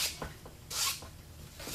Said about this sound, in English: continue on the back side of the jean. Sanding in that same direction.